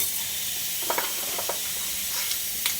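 Urad dal, chana dal, mustard seeds and cumin frying together in oil for beetroot coconut curry give a quiet, steady sizzle broken by a handful of brief crackling pops.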